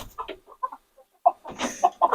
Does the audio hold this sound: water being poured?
no